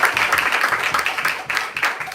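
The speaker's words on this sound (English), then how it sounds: "Let's give a big round of applause." Audience at a Sunday feast class applauding a special guest, a full burst of clapping that swells and continues steadily across the room.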